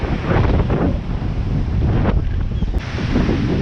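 Stormy sea waves surge near Blackpool North Pier, a loud, steady roar of surf heavily buffeted by gusting wind across the microphone throughout.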